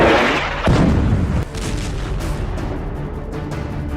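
Missile strikes in war footage: a loud, heavy explosion burst at the start, followed by lingering rumbling and scattered cracks that fade into a sustained roar of debris and distant booms.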